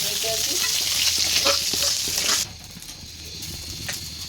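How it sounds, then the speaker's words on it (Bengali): Nigella seeds and onion sizzle loudly in hot oil with steady crackling and some stirring; the frying noise drops sharply about halfway through and continues quieter. "কালি জিরে দিয়ে দিলাম ফোড়নে পেঁয়াজ তেলের দিয়ে দিলাম"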